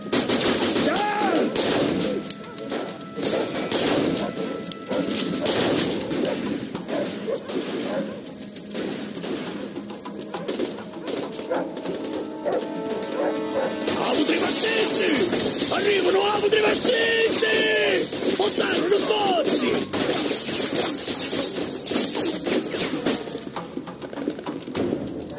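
Machine gun fire in the Mafia 2 chapter The Old Country, dense rapid gunfire and battle clatter running throughout under shouting voices, loud and continuous with scattered sharp cracks.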